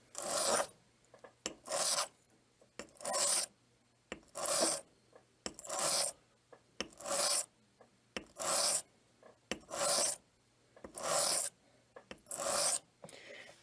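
A straight razor drawn in long, steady strokes across a sharpening stone, flipped between passes, giving about a dozen evenly spaced raspy scrapes, close and clear, with no talking.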